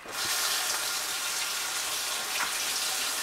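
Turkey wing bones rinsed under a running tap, a steady close gush of water pouring continuously from start to finish with no talking.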